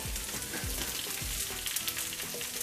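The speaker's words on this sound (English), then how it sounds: "we're gonna fry this okra on very slow flame" Okra frying in hot olive oil over a low flame, a close continuous sizzle with a few soft stirring knocks underneath.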